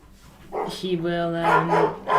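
Dogs bark at a distance behind a man's ongoing speech, a few short yaps that are partly masked by his voice.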